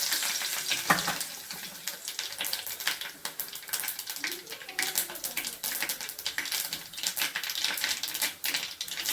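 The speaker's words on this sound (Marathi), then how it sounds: "फोडणीमध्ये मोहरी तडतडली की जिरे घालून घ्यायचे. जिरे छान तडतडले की कढीपत्ता" Cumin seeds and curry leaves hit hot oil for a tempering, giving a close, loud crackling sizzle full of rapid pops and spatters that keeps going throughout, with no voices.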